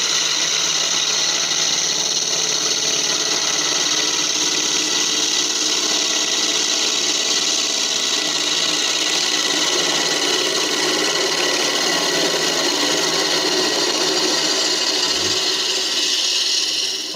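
On a wood lathe, a spindle tool takes a light finishing cut on an end grain bowl, producing a continuous close scraping hiss over the spinning motor hum for about seventeen seconds without speech.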